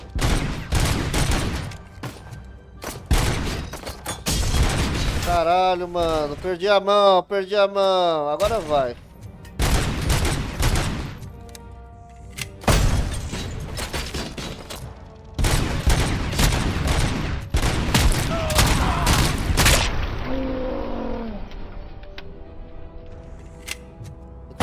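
Rapid bursts of gunfire in the video game RoboCop: Rogue City crackle repeatedly, separated by brief pauses, while someone talks excitedly over the shooting.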